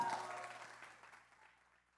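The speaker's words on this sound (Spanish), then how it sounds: "Y antes vamos a darles un aplauso." Applause from an audience, a dense patter of many hands clapping that gradually fades away, with voices mixed in faintly.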